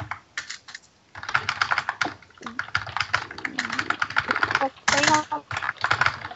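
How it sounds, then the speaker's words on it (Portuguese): Rapid clattering keystrokes on a computer keyboard, close and loud, come in busy bursts with short pauses, and a voice talks now and then over the typing. "É Caio fodando aí o teclado dele."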